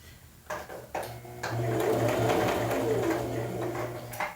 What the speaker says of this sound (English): having done one dart, in my ability to sew into the chiffon.